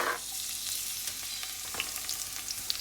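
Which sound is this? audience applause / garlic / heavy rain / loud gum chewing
garlic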